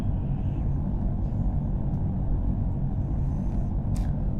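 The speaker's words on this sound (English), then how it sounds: "We're at the mercy of this" Low storm rumble from a weather event in the space survival game Empyrion Galactic Survival (Reforged Eden), a steady, loud, dense roar filling the scene throughout with no talk.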